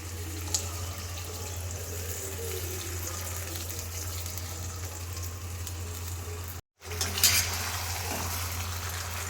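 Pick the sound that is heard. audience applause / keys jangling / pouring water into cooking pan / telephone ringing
pouring water into cooking pan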